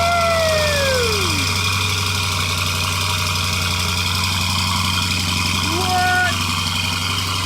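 A Lamborghini Urus idles with a steady low drone while warming up, loud and close, with a brief wavering whine over it; a voice speaks briefly.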